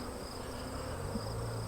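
Honey bees buzzing around an open hive box, a steady low droning hum that stays even and moderately close throughout, with no voices.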